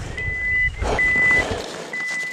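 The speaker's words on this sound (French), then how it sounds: "C'est quoi qui bip comme ça? Mon SOS." Electronic SOS beacon beeping during an off-road motorcycle trail ride in Auvergne, France: a steady high-pitched tone in repeated long beeps over low engine rumble and outdoor noise.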